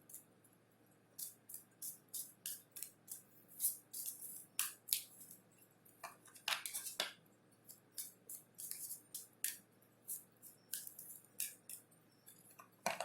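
Tarot cards being shuffled quietly, a long run of soft, crisp riffles and flicks in irregular bursts, close and alone with no talk.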